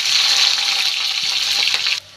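Chopped onions drop into hot oil in a pan after fish has been fried, giving a loud, steady hiss and sizzle that stops abruptly near the end.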